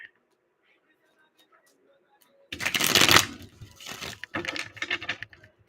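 Tarot cards are shuffled in quick riffling bursts after a near-silent pause, crisp and close, in several rapid rounds.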